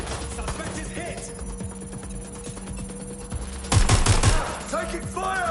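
Gunfire in Watch Dogs: Legion: a rapid burst of automatic shots stands out at close range, with game voices and scattered sounds over a steady backdrop before and after it.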